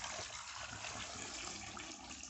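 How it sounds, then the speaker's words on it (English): Water poured from a container over potatoes in a cooking pot for Kenyan viazi karai, a steady, soft rushing splash that runs unbroken throughout at a faint level with no voices. "Add some water"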